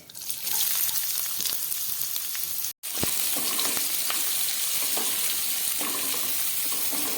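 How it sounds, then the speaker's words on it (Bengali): Chopped onion and bay leaves frying in hot oil for a Bengali-style mutton kasha, giving a steady, close, loud sizzle with a brief cut-out partway through. Faint utensil clinks sound throughout, with no talking. "এবার দিয়ে দিচ্ছি কিছুটা পেঁয়াজ।"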